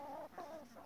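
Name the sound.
chickens clucking in mobile chicken house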